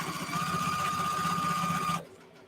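A sewing machine stitches tutus at a longer stitch length, giving a steady, close mechanical whir for about two seconds before it stops abruptly into near silence.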